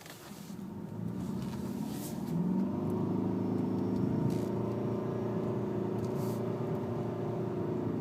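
A 2012 Ford Fusion Hybrid accelerates at about quarter throttle, the engine rising in pitch with a smooth, fairly quiet hum that holds steady after the initial surge.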